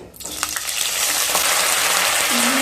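Ginger and green chili paste hits hot oil in a pan, bursting into a loud, close, steady sizzle after a brief quiet start, with a few light metallic clinks from stirring.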